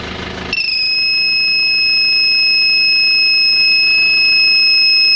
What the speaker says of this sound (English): if I disconnect this sensor cable down here, the alarm should go off